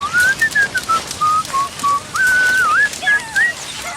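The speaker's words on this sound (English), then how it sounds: "Listen to the whistle." A melodic human whistle from the Red Dead Redemption video game runs as a string of short, sliding tones with brief pauses, clear and close over a faint background.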